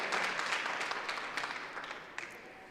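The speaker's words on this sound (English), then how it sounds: "they can give them a round of applause as they come up" Audience applause at the opening night of a conference, a steady wash of clapping from a crowd that stays fairly even and slowly tapers off, with no voices on top.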